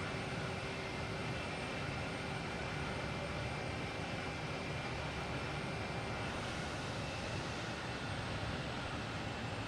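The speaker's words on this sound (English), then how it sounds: "We have another Spirit Airlines here." A Spirit Airlines airplane at Boston Logan Airport produces a continuous broadband engine roar, fairly distant and steady throughout, with no voices over it.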